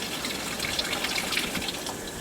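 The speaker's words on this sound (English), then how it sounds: "keep siphoning until all of that is finished" Steady rushing and gurgling of water flowing through a siphon tube draining an aquaponics system, continuous and fairly close, with no talking.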